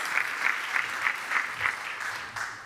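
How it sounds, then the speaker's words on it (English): An audience at a startup showcase event breaks into steady applause for a speaker, a brief, even wash of clapping with some individual claps audible in a regular pattern. "big round of applause"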